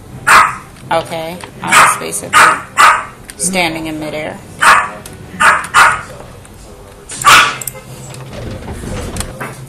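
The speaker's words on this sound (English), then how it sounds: "Her puppy's home. So she's gonna bark like crazy" A dog barks repeatedly in a home, a string of loud, sharp close barks in irregular bursts with a whimper in between, while a person talks over and between them.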